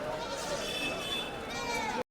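Goats bleat in a busy livestock market in Kadiri, their wavering cries rising over a dense crowd murmur of overlapping voices.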